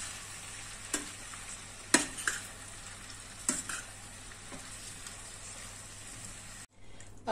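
Amchur powder being stirred into cooked bhindi masala in a pan with the gas switched off: a soft continuous scraping hiss with a few sharper clinks of the spoon against the pan, and no one talking.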